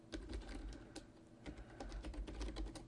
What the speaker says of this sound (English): This time, type something new.